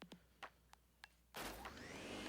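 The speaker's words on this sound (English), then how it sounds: "the Poltergust 3000. It can suck up all kinds of things." Poltergust 3000 vacuum in the Luigi's Mansion video game switches on with a sudden loud, steady rushing suck after a few short soft sounds, holding strong to the end.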